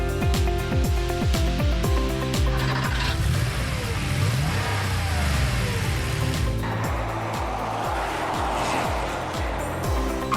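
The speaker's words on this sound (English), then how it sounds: "Drivers, start your engines!" Race car engines start and rev together at the start of a race, a loud, dense roar with pitch sweeps rising and falling, and a harsher spraying rush swelling in the second half.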